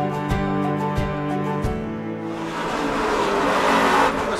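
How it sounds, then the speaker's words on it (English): A Toyota car spinning its wheels as tires squeal loudly, preceded by several sharp thumps and a sustained engine tone, then a broad screeching skid that swells toward the end. "Ooh, a lot of wheel spin back there on that."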